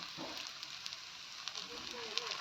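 Mustard flower fritters (bora) frying in oil on a stove give a steady, faint sizzle with occasional small pops.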